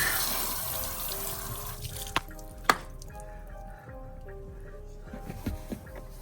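A garden hose sprays water over a car, a broad hissing rush that thins out after a couple of seconds, broken by a few sharp knocks and small drips nearby.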